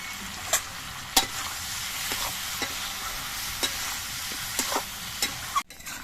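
Cucumber, coconut and prawn masala, with a pinch of sugar, sizzles in a pan under a steady frying hiss, punctuated by sparse spatula scrapes and a final sharp knock on the pan.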